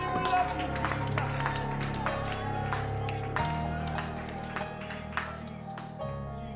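A church congregation claps hands in praise, a sustained mass of dense overlapping claps lasting several seconds, mixed with shouts and a sustained musical backing tone.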